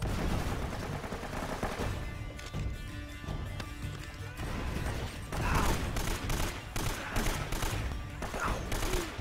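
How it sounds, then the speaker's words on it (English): A mounted turret in the action video game Uncharted: Drake's Fortune, set in a fortress, fires sustained rapid bursts of gunfire with mechanical clatter and scattered impacts, loud and dense throughout. "That turret's gonna cause me the most problems out of anything."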